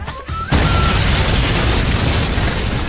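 A sudden loud blast from a bomb trap erupts after a brief moment, followed by a sustained roaring rumble of debris and noise.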